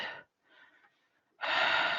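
A woman gasps and breathes heavily as she wakes with a start: a sharp intake, a quieter breath, then a long loud exhalation, close and with no speech.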